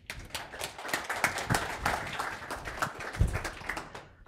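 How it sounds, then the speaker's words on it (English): Audience applause at a Greenlight and Google business conference, steady overlapping clapping of moderate volume from a room of people, lasting throughout without speech. "Thank you everyone for your applause."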